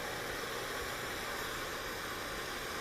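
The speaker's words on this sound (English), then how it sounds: "This engine is called Hero's engine." Hero's engine, a spinning steam reaction device, demonstrated in a physics lecture on action and reaction, gives a steady, loud, broadband hiss that continues unbroken throughout with no voices.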